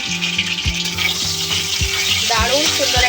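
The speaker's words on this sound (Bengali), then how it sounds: "এবার খুব ভালো করে কষিয়ে নেব।" Chicken with chilli and special biryani masala stir-fried in a pan, a loud close sizzle broken by repeated rhythmic scrapes and knocks of a spatula against the pan, no talk.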